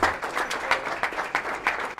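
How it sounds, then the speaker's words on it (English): A round of applause from a small gathering, with distinct individual claps standing out in an uneven, lively rhythm over a short burst. "Hazel was given a round of applause."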